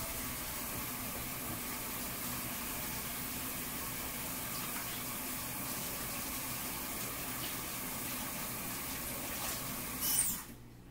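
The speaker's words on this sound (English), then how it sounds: "Let me wash up my hands." Tap water runs steadily while hands are washed, a faint continuous hiss and splash lasting several seconds, with a brief louder splash near the end before it cuts off.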